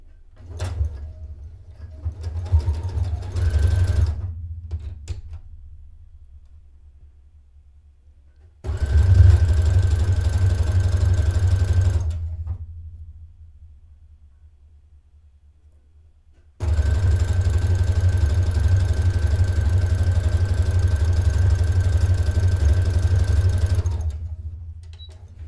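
A sewing machine stitches lace onto a dress in three long runs of steady motor whirring, each starting and stopping abruptly, with quiet pauses between.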